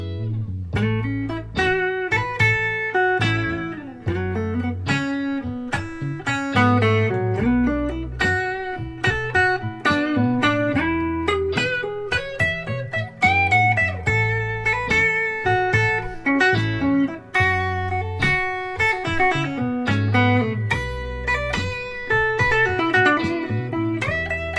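Guitar improvising with the pentatonic scale over chord changes, a steady stream of picked notes and chords flowing for the whole stretch, loud and close with no talking.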